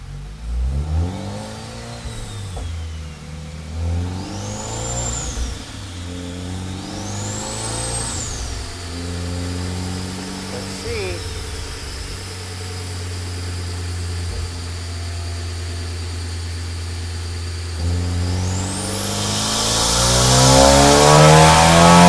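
A turbocharged Honda RV6 car engine revs on a dyno, climbing and falling in pitch through several pulls over a steady drone, then rising into a loud, rushing finish.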